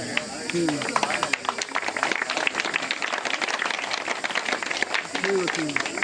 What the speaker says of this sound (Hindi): आप लोग जोरदार ताली से स्वागत करें।